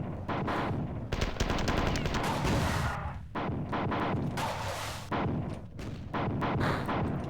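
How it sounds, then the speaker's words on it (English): Rocket launcher fire in the 1995 first-person shooter Marathon 2: Durandal, a dense run of loud, overlapping blasts and explosions with rolling booms that fill the whole stretch, briefly dipping between volleys. "Now this rocket launcher."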